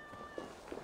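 A cat in the Assassin's Creed Valhalla video game meows twice in quick succession. The short meows sit over a steady game background hum.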